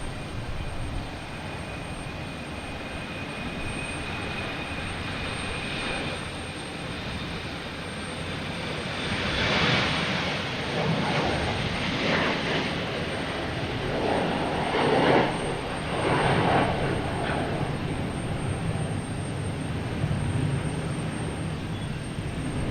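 An Embraer 190 jet airliner takes off at Boston Logan, its engines a loud, sustained roar that swells and churns over twenty seconds with broad rumbling wash and a thin high whine.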